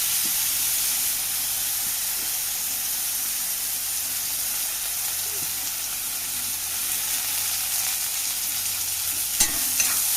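Chickpeas with chilli, ginger, garlic and curry leaves sauté in a pan, giving a constant soft frying hiss with faint stirring taps and one louder scrape near the end, steady and close, with no talking.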